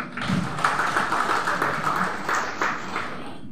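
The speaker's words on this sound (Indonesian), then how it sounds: "Terima kasih, tepuk tangan." A conference hall audience at a 2021 Kingmi synod session claps in a rhythmic burst of hand claps, moderately distant and fairly even, with a faint hum in the room.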